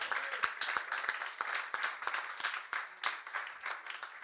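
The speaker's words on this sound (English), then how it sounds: "give him a round of applause" An audience applauding the runner-up of a FIFA Interactive World Cup video game tournament, a modest spread of claps with some sharp individual hand claps, fairly close and steady throughout.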